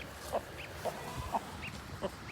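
A hen clucks near newly hatched goslings on a farm, short throaty clucks repeating at a steady pace, four or five close calls over a low background hum.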